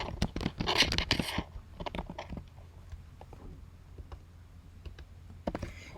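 Sharp clicks from a computer mouse and keyboard at a desk, a quick cluster of taps early, then sparse scattered clicks, faint and close with no talking.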